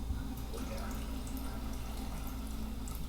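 Water pours steadily into a cooking pot of salted water for dumplings and white yams, a continuous splashing fill with no pause.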